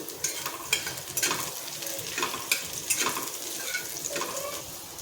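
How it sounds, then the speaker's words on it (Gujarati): Curry leaves hit hot oil in a pan for dal tadka, giving a close, crackling sizzle with scattered sharp pops and stirring clatter over about five seconds, no voices. "હવે આપણે અહીંયા 4 થી 5 મીઠા લીમડાના પાન લીધા છે એ આપણે એડ કરી દઈશું"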